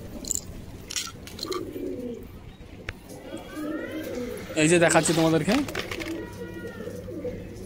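Pigeons, some with colds, cooing in a loft in several soft throaty bursts, clearest near the end, while someone talks over them.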